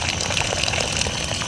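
Water poured onto a Japanese maple tree, a steady gushing, splashing flow heard close up and continuous for the whole stretch, with no voices.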